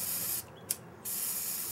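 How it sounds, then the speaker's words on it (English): Aerosol can of brake cleaner spraying in a steady, loud hiss that cuts out briefly in the middle, with a small click, before the spray resumes. "Now you waste all my brake cleaner."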